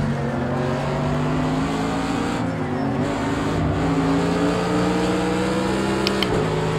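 Mercedes-AMG GT3 race car engine in the Project Cars 2 racing game, a loud, sustained high-revving drone that shifts pitch with gear changes and throttle, with a brief tire squeal near the end.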